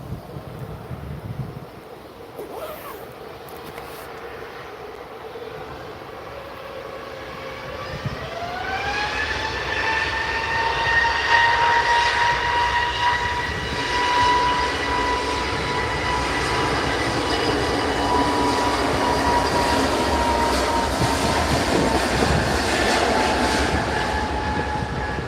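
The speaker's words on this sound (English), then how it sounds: "next to depart we've got a Jet2 A321 off to Reyes" A Jet2 Airbus A321 departing runway 23L at Manchester Airport, its engines spooling up with a rising whine into a loud, sustained takeoff roar heard from nearby.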